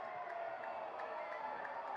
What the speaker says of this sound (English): The crowd is booing.